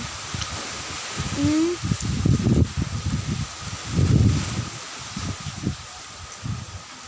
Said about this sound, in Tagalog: Mo dito ang kusog kayong hangin.